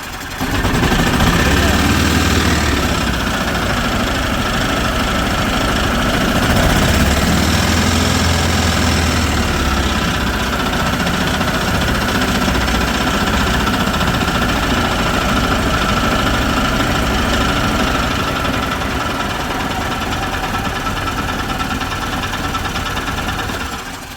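Small engine of a 2010 Yamaha Drive G29 golf cart, recently fitted with a replacement carburetor, running at a steady rough idle with a low chugging rumble throughout, close by.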